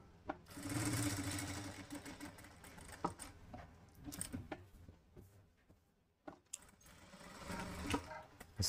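A sewing machine runs in close, uneven bursts while stitching a georgette kurti, its motor whirring through the fabric. It stops and starts several times with short pauses between runs, and no one speaks.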